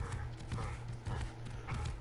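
Horses in the video game Ark: Survival Evolved, steady clip-clop of hooves with a soft whinny, close and continuous, low rumbling game ambience beneath.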